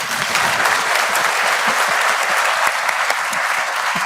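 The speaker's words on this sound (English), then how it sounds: "Now you can clap." Sustained audience applause fills a university congregation hall, a dense, steady patter of many hands clapping together, loud and even from start to finish with no talk over it.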